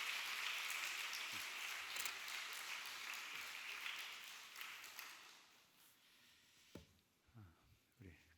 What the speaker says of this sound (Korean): 큰 박수로 우리 맞이해 주시길 바랍니다